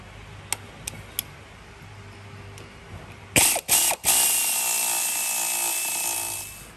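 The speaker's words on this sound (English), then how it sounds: "the first thing is I just want to undo these 8 bolts" Ratchet working on the bolts of a Ford Everest tail-shaft CV joint, a few light clicks, then a burst of loud grinding power-tool noise with short breaks and a sustained run close by.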